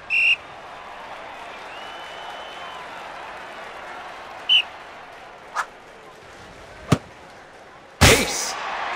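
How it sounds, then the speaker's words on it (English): A distant crowd murmurs over a steady ambient hum in Kinect Sports tennis on Xbox 360, punctuated by a few sharp ball strikes and a sudden burst of cheering at the end. "Listen to the reactions from the crowd."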